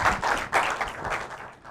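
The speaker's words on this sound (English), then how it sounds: "give Cy a big round of applause" A small audience claps briefly after a workplace communication demonstration, a short uneven patter of hands that thins out quickly.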